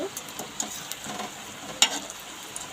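Potato bombs fry in shallow oil, a soft steady sizzle with faint crackles and one sharper pop near the end, quiet and close with no talk.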